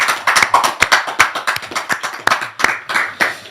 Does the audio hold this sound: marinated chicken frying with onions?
no